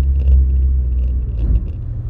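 A GTi car gearbox running, heard as a deep, steady low rumble with faint higher whine and a squishing, liquid-like quality, close and continuous without talk.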